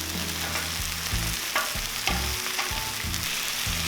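St Louis cut spare ribs fry on a Cuisinart 360° griddle set to low, giving a steady close sizzle with occasional scrapes and clatter, and faint music running beneath.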